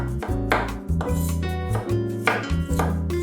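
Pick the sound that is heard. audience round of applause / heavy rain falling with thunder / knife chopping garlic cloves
knife chopping garlic cloves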